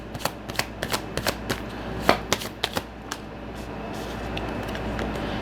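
Tarot cards being shuffled by hand close up, a rapid patter of riffles and slaps that thins into a soft continuous rustle as a card is drawn.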